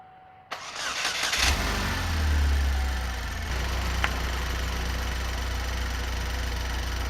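A GM LDK engine in a Saturn Sky Redline cranks briefly, catches with a revving flare, then settles into a steady, even idle, close up and continuous.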